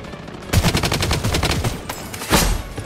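AK-47 gunfire in the video game Blood Strike: a loud burst of rapid shots starts after a short quiet lead-in, rattles on steadily, then a sharper blast lands near the end.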